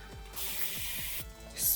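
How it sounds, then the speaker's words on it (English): A handheld spray bottle misting water onto freshly braided hair in a French rope braid, with two long hissing bursts, each set off by a trigger click, close and fairly loud. "I'm going to take my handy spray bottle"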